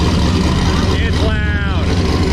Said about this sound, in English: Cold starts are loud.